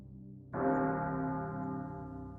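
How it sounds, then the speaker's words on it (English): A single bell strikes and rings out with a long, steady humming sustain that slowly fades, heard alone in a quiet space. "That's the bell. That means our story is ready."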